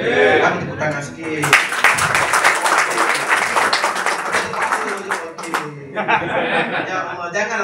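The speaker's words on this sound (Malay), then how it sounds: "tepuk tangan sikit" Audience clapping and applause at a talk on making money with a phone breaks out after a speaking stretch, a dense burst of many hands lasting several seconds, with voices and talk before and after it.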